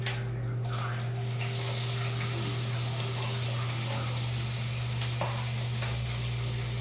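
Shrimp, mushrooms, onions, green peppers and jalapeno peppers fry in a pan, giving a continuous hissing sizzle over a steady low hum, with no talking.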